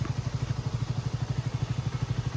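A KTM 200 motorcycle engine runs with a steady low, pulsing throb, its even beat close and constant without any talk over it.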